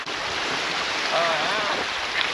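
Arctic Ocean water sloshing and swirling around feet in waterproof shoes while wading near Tuktoyaktuk, a continuous close wash of splashing and rushing water with wind noise and no speech.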